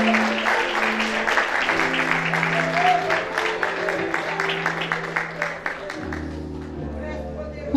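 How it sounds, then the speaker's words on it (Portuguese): A church congregation at an anniversary service applauds for the Lord, with lively clapping and crowd voices over sustained keyboard chords that shift near the end. "recebo com palmas para o Senhor"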